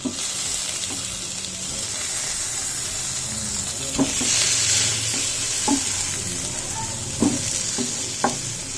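Chicken pieces fry in a covered pan with no added oil, giving a steady crackling sizzle broken by a few sharp knocks and clacks as they are flipped over.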